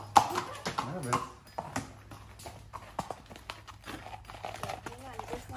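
Icelandic horse hooves clop in uneven, close-up taps while people talk over them.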